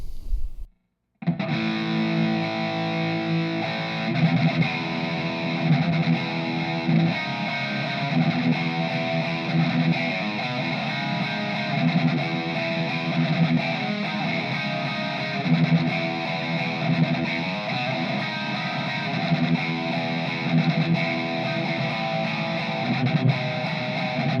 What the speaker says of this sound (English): So now I'm going to show you my distortion.